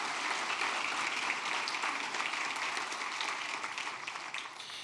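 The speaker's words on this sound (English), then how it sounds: "So again, a round of applause, please." Audience at a United Way of the Lower Eastern Shore kickoff breakfast gives a round of applause, even moderate clapping that holds steady and eases slightly toward the end.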